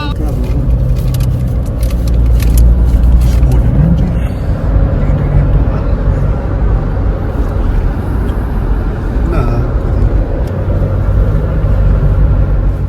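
A car drives along a hill road toward Magdi near Landour, its engine and road rumble steady and loud throughout, with people talking inside the vehicle over the noise.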